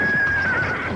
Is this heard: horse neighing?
yes